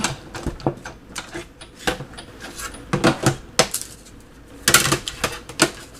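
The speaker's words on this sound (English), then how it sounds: "go ahead and stick this one through the Big Shot" A Big Shot die-cutting machine cranks a paper butterfly through, producing a close series of clicky, ratcheting clacks in irregular bursts, with no talking.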